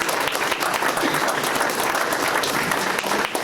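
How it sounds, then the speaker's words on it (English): A room of attendees at a Plymouth County Democratic League breakfast applauds their chairman, a sustained, even patter of many hands clapping at moderate volume, with faint voices now and then. "Let's give a round of applause to our Chairman, John O'Toole."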